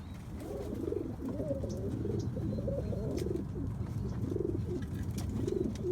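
A breeding pair of pigeons cooing at their nest, repeated soft rolling coos in a steady rhythm, close by and moderately loud, with no talking.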